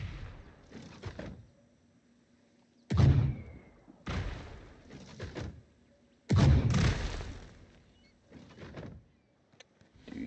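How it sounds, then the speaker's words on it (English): Cannons firing in LEGO Fortnite Odyssey, a series of heavy booming thuds spaced a second or two apart, two of them especially loud and deep, with no talking during the shots. "Alright, now I'm just shooting my cannons."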